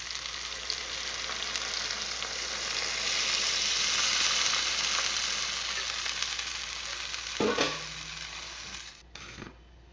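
Tempeh and bean sprouts sizzle steadily in a hot pan while being stir-fried, followed by a sudden sharp hiss and clatter as water is poured in near the end.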